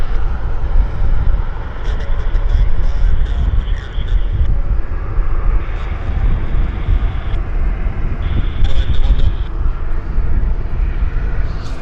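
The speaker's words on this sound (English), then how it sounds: "Got a Q400 taxiing out as well." A Q400 turboprop taxis at Vancouver airport, its engine a steady, broad rumble that holds for the whole stretch, with a voice talking now and then over the noise.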